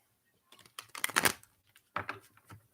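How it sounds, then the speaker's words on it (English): Tarot cards shuffled by hand in a few quick riffling bursts with short pauses between them, close and fairly soft, with no talking. "I'm gonna have to shuffle this again in a different way"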